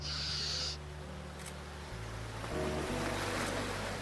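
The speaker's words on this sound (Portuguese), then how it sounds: "A onda faz a água entrar nessa grelha e quando ela volta, ela faz um..." Ocean wave surging through a grate in a seaside architectural structure, a steady broadband wash of water and surf rising and settling with a deep low rumble, continuous and fairly close, no voices.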